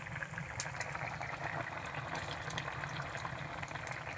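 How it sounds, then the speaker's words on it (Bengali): A pot of small-fish curry with bottle-gourd greens boiling steadily, a dense, continuous bubbling and simmering hiss with faint pops, close and even throughout. "এই দেখো বন্ধুরা, টকবক করে ফুটতেছে"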